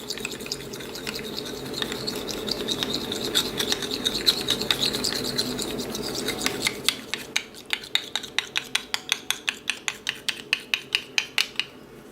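Spoon stirring thick and thin liquid foundation together, a steady wet scraping swish that shifts into a run of evenly spaced, sharp clicking taps against the container near the end, close and fairly quiet.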